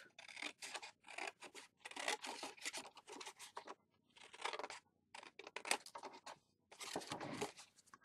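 Scissors snipping through paper pieces for a handmade stationery caddie box, a run of quiet, close cutting bursts separated by short pauses, with no talking.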